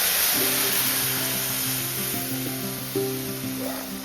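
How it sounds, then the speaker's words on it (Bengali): Milk poured into a pan of reddish-fried vermicelli sets off a loud, close sizzle, a dense crackling hiss that runs steadily throughout with faint clattering underneath. "এরপর এখানে দিয়ে দেব দুধ"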